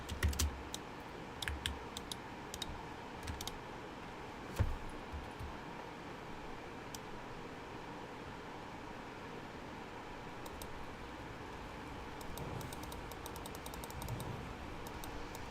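Faint computer keyboard typing comes in scattered bursts of soft clicks over a steady hiss of background noise, quiet and somewhat distant, with no voices.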